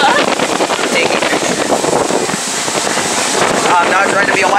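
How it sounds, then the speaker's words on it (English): Strong seaside wind on a beach vacation buffeting the microphone: a loud, continuous roaring rumble that never lets up, with voices faintly mixed in underneath. "It's so windy."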